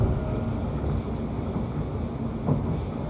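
Interior of a London Overground Goblin line train running toward Gospel Oak: a steady close rumble of carriage and rails with a brief clunk midway, no talking.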